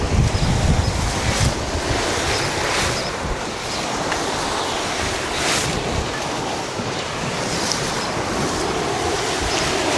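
Strong wind roars across a beach campsite, buffeting the microphone in heavy gusts over the steady wash of surf, loudest in the first second and continuous throughout with no voices.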